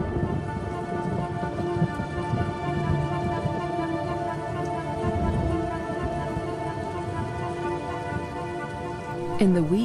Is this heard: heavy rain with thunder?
yes